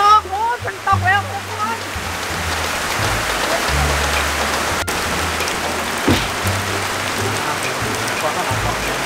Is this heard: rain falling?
yes